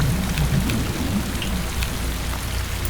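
Steady rain falls in the Ghost Watchers video game, a continuous dense hiss with low rumbling underneath, loud and unbroken throughout with no talking.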